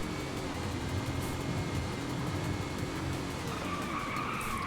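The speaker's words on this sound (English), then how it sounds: "you just brake and it just stops instantly" Hard braking and tire skid from a car in the racing game Forza Horizon 5, a steady loud rumble of engine and screeching tires running through the whole stretch with no talk.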